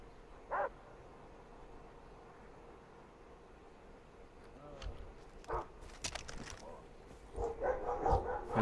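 Dogs bark in the video game Far Cry 3, several short, fairly faint barks scattered across the scene, clustering toward the end, with quiet ambient background and some talking.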